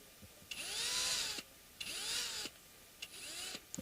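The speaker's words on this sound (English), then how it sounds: "Go backwards a little bit first, and now drill." A power drill bores into a guitar neck during a Kelly Beast neck swap, whining in three close, loud bursts separated by short pauses, with no talking.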